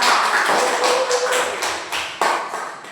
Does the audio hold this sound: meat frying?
no